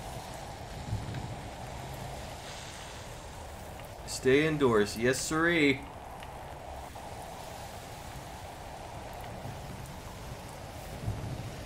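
Acid rain falling in the Roblox Natural Disaster Survival game, a steady soft hiss of rain throughout, with a person talking briefly in the middle over it.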